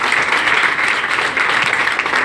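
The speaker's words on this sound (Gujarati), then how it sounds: "તેમના માટે જોરદાર તાળી થઈ જાય" An audience claps loudly and continuously for a senior at a celebration, a dense, even wash of applause from many hands throughout.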